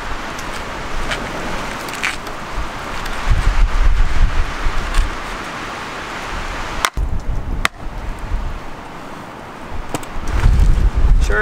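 Gusts of wind buffet the microphone in low rumbling surges, rising and falling, with a few sharp clicks and knocks between.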